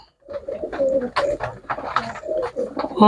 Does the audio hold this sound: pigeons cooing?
yes